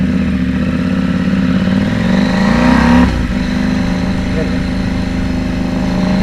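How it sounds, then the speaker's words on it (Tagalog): A KTM 790 Duke motorcycle engine runs loud and close, climbing in revs for a few seconds before dropping back to a throbbing idle-like drone, with a rider's voice talking over it. "Nakaputok sa tambucho pagka ano, pag mag-shift."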